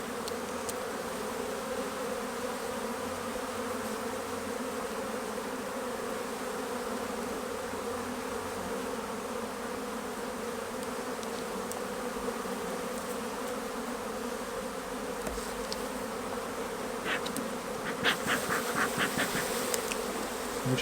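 Steady, dense buzzing of many honeybees at an open hive during a nectar flow, close and continuous, with a few sharper wingbeats passing near toward the end.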